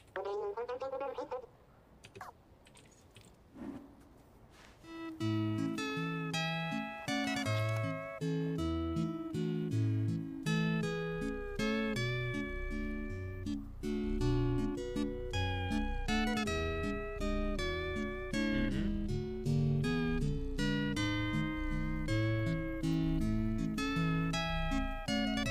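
A piano waltz plays in the video game Stray, a lilting melody over rhythmic bass notes that starts after a brief sparse opening and continues steadily for over twenty seconds.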